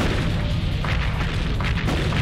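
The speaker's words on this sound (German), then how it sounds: "Ich muss einfach schießen." A tank cannon fires in the video game Seek and Destroy, heard as loud, dense rumbling noise with a couple of sharper blasts breaking through.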